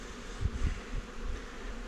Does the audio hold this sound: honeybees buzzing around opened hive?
yes